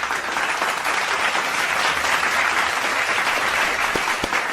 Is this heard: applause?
yes